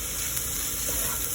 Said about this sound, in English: Adding some oregano, some garlic, and give this all a stir.